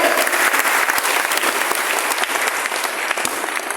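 An audience claps loudly and steadily at a morning gathering, a dense, even wash of applause with no talk over it.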